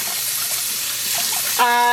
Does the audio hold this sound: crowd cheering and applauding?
no